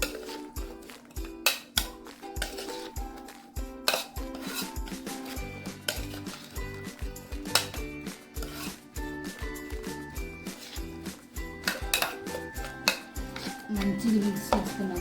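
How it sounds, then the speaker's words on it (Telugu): Chopped green chillies and onions being mixed by hand with spice powder, chili powder and salt, giving a steady run of rubbing, stirring and bowl-scraping noises with musical tones playing underneath. "ఆ పౌడర్, సాల్ట్, కారం అనేది ఈ మిర్చికి, ఆనియన్స్కి బాగా పట్టాలి. అలా మిక్స్ చేసుకోవాలి."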